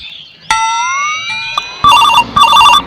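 A telephone rings loudly and close, with two bursts of a trilling electronic ring following a sustained tone at the start.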